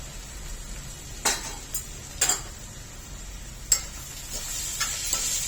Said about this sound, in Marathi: भाजी चांगली परतून घ्यायची।